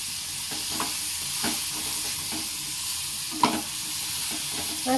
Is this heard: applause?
no